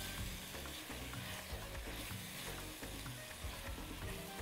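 Orzo pasta and grated tomatoes sizzle quietly in a frying pan while being stirred, with a soft, steady crackle broken by scraping and stirring strokes and no talking.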